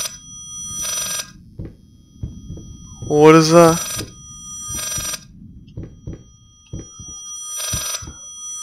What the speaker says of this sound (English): This ringing is really annoying me right now.